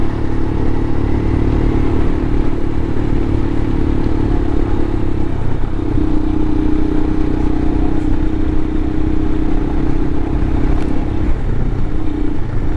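A Royal Enfield Himalayan motorcycle chugging uphill on a mountain road, its engine a constant loud, close drone mixed with wind rush, with no voices.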